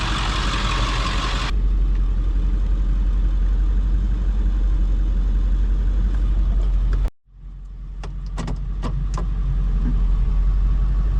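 A vehicle towing a trailer carrying a 20-foot shipping container runs with a steady, loud engine rumble. The sound cuts out briefly, then returns with a few clunks as it pulls away.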